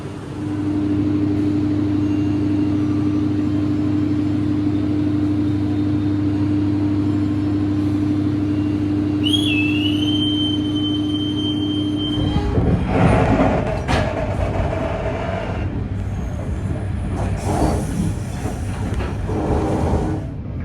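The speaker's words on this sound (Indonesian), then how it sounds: "Ketemu sama kereta api Kertanagara." Kertanagara passenger train passing close by, a steady low rumble and hum that breaks into loud broadband clatter and rushing wheel noise partway through, with a brief high squeal.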